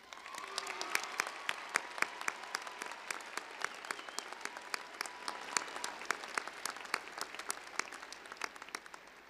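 A commencement crowd at Weber State University claps for the graduates' families and friends, a dense, even patter of many hands that carries on steadily, heard from a distance without voices.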